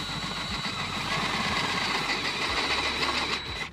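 A 3/8 bit drills out a hole in a Jeep grille mount, a steady close-up motor whir with a grinding, buzzing texture running continuously at even loudness.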